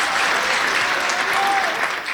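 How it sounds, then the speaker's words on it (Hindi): Loud, dense applause from an audience at a Hindi comedy poetry gathering, a steady wash of many hands clapping together throughout, close and full with no pauses. "एक बार तालियां बजा दो धुआंधार जी के"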